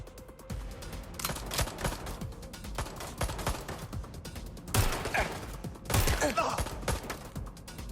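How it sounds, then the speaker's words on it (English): Gunfire from a firefight in Watch Dogs: Legion, dense bursts of shots and rattling mechanical clatter, loud and continuous, with two sharper louder bursts near the end. "I'm taking fire! Taking fire!"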